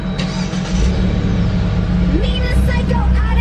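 A Jeep JL fitted with a Mishimoto oil catch can drives on a test run, its engine and road noise forming a steady, loud rumble, with a voice talking over it.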